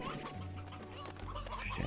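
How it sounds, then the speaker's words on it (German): Chickens cluck quietly in the Slime Rancher video game, a few soft, irregular clucks over low game ambience. "Da sind schon alte Hühner dabei, oder?"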